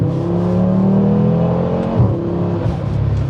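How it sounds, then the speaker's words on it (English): An Audi RS3 five-cylinder engine with an AWE exhaust revs steadily with a loud, warbling tone that climbs and holds, close and alone. "as you climb the revs, it's got a good tone."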